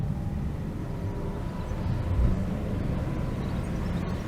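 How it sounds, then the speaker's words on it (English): A Fiat Panda Mk3 1.1 Active Eco pulling away in first gear, heard from inside the cabin: a steady low engine drone that swells a little as it picks up, with no talk over it. "So we shall select first with this stubby little lever. Make sure I'm actually on the throttle pedal, and away we go."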